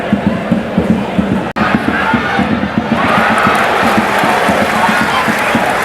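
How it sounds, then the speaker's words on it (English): Home crowd at a Hvidovre IF football match in Copenhagen, a dense, continuous roar of fans with rhythmic clapping-like pulses, steady and loud throughout with a brief dropout near the start. "Home crowd applauding."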